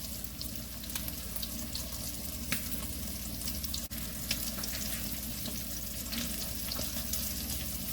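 Food browning in a frying pan gives a steady, dense sizzle with faint crackles throughout. There is no talking.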